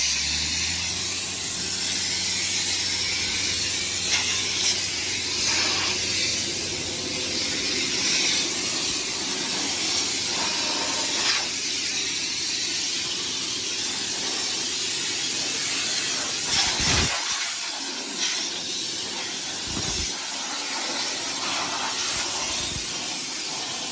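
An air compressor hose blasts a steady, loud hiss of air while cleaning a combine after harvest, continuous throughout with brief breaks near the end.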